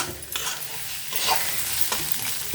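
Egg podimas being stirred with masala in a pan, a steady frying sizzle with a few scraping strokes, close and alone.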